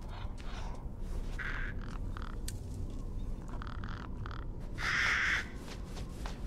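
Crows caw in short harsh bursts over a steady, noisy game-world ambience in Resident Evil Village, with one louder, nearer call standing out near the end among several fainter ones.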